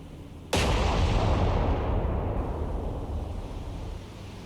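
A sudden heavy boom of naval artillery firing at sea in the War on the Sea naval combat game, its loud rumbling roar decaying slowly over several seconds with no speech.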